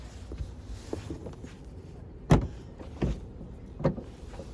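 Rear liftgate of a 2025 Hyundai Ioniq5 Preferred Long Range AWD opening, with a soft mechanical whir and a few distinct clunks and latch knocks spaced about a second apart, close by and moderately loud.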